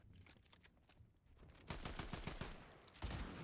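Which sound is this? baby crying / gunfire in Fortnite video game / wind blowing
gunfire in Fortnite video game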